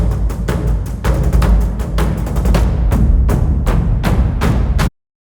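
Booming, heavily layered cinematic percussion drum hits pound in a driving, irregular rhythm, deep and loud, before stopping dead.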